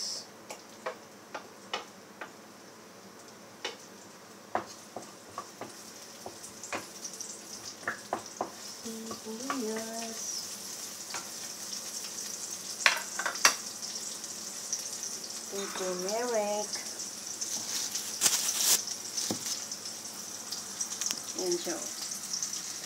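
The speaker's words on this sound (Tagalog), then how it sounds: "Ayan, lagay na natin yung sibuyas." Sliced onions frying in a pan for simple turmeric fried rice, a soft steady sizzle with scattered ticks and pops, while a voice talks briefly now and then.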